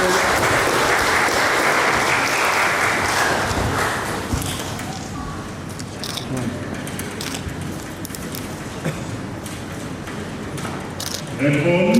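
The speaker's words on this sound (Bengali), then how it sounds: "একটা হাততালি হবে জোরে।" Wedding guests at a Christian ceremony break into loud, dense applause after a garland exchange; the clapping fills the first four seconds, then fades to scattered claps, shuffling and murmuring crowd noise.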